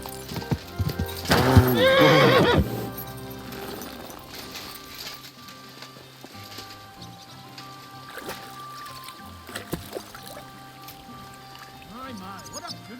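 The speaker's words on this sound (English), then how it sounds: "My, what a beautiful horse." Horse in Kingdom Come: Deliverance II gives a loud, close whinny with hoof clip-clops, then quieter game ambience with scattered movement and voices talking.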